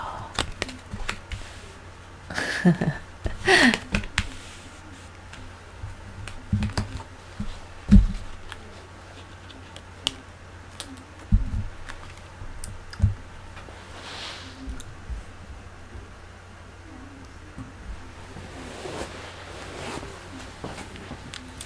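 Tarot cards being laid out and flipped over, a scattered series of light taps, slides and card flicks at irregular intervals, close and fairly quiet, with a few sharper clicks.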